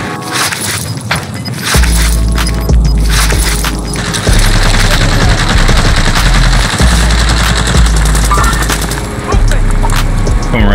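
Automatic gunfire rattles in the shooter Warzone, loud bursts of rapid shots repeating in clusters across the clip while players talk over the fighting.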